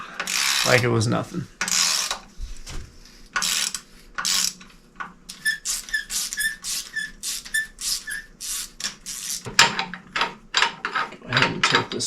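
A 3/8 inch drive ratchet turns a bolt on a Cummins-swapped C30 dually truck, giving runs of quick, close clicking pawl ratchets in bursts, with a brief spoken remark and some shop noise between strokes.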